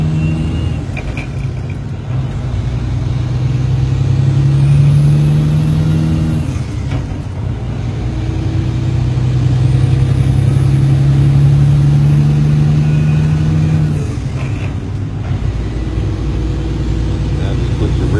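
A 1979 Peterbilt 379 truck with an 18-speed transmission works through its gears, the engine droning steadily and rising and falling in pitch with each shift, heard from inside the cab.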